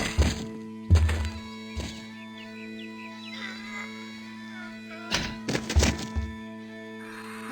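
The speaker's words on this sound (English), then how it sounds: "not until you can best me in the caber toss" Heavy wooden thunks from a caber toss in The Curse of Monkey Island, several dull impacts spaced a few seconds apart over a steady game background hum, with a brief scatter of lighter clatter between them.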